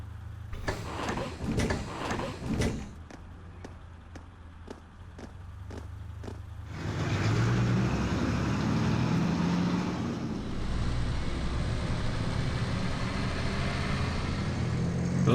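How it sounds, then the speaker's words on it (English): Armored car from Trails of Cold Steel: a run of sharp mechanical clicks and clunks gives way to a steady, loud engine drone and rumble that holds to the end, with no voices. "We boarded the armored cars and set off towards the proving grounds."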